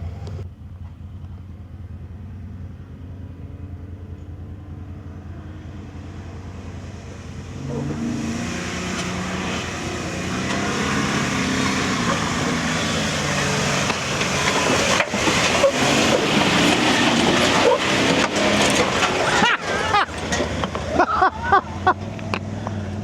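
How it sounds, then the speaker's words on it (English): Heavily loaded pickup truck climbing a steep off-road trail on the TransAmerica Trail in Colorado or Utah: a low idle grows into a loud, strained engine roar with revving surges and rough rumbling, building over the clip. "We're at this pretty steep climb that James is going to do"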